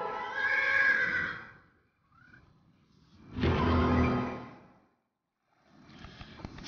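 A horse in the video game Voodoo Vince gives two loud, drawn-out neighs separated by a short pause, followed by a softer snort, with no talking.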